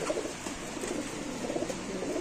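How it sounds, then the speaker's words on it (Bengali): Bombay racer pigeons cooing at a pigeon seller's, a soft continuous murmur of coos at moderate distance with no talk. "এটা কিন্তু খুব সুন্দর একটা কবুতর ভাই"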